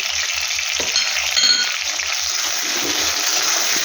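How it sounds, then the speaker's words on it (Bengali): Chili powder and turmeric sizzle in hot oil in a pan, a steady bright frying hiss with a brief louder flare midway and faint low stirring knocks underneath. "তারপরে এখানে আছে লঙ্কার গুঁড়া আর হলুদ, এটাও আমি দিয়ে দেবো।"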